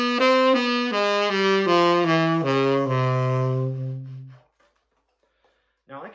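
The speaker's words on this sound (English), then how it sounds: "This is the 5th mode of F doubly harmonic minor." Fifth mode of the F doubly harmonic minor scale played as a clear, sustained run of about eight notes stepping downward, each ringing into the next, with the last note fading out before a short sound at the end.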